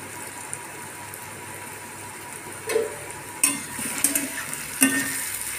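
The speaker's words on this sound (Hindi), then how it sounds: "बीच बीच में से चलाते रहें ताकि मशरूम अच्छे से फ्राई हो जाए" Mushrooms frying over a high gas flame, a steady hissing sizzle broken by a few sharp scraping knocks of a spatula stirring the pan in the latter half, close up with no speech.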